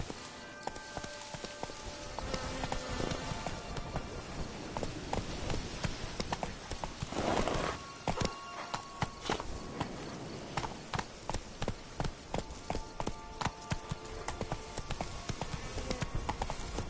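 Hooves of a horse in The Witcher 3 video game clatter in a fast, steady clip-clop gallop, loud and close, with game music and effects underneath and a brief lull midway.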